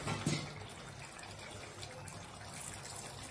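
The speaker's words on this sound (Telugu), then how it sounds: "ఇప్పుడు ఇందులో అయితే మనం గ్రేవీ కోసం వాటర్ వేసుకుందాం" Water pours briefly into crab curry in a pot to make gravy, a faint continuous trickle and splash close by.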